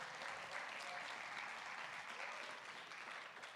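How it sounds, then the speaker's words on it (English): Audience applause at a business pitch competition, a dense, steady clapping from a crowd that holds evenly throughout, heard at a moderate distance. "So I need to give a big round of applause to everybody one more time for being here"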